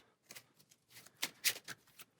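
A stack of board game upgrade cards shuffled by hand, a few quick, soft riffling bursts close by, quiet with short pauses between.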